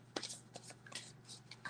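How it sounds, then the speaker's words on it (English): Tarot cards are shuffled by hand in a quick burst of crisp slapping and riffling clicks, close and quiet with no one talking. "Steven, I'm just sitting here shuffling"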